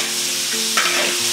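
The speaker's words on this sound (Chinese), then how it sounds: "鸭子下锅调水，放点葱姜料酒" Duck pieces go into a wok with water, scallion, ginger and cooking wine, producing a loud close sizzle with stirring and a sharp burst of hissing partway through.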